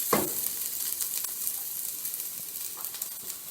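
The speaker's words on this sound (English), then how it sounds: "you're gonna stir them or fry them until they're a little brown in color" Masala dosa stuffing fried and stirred in a pot, giving a continuous soft sizzle with occasional light stirring clinks, close and moderate, without speech.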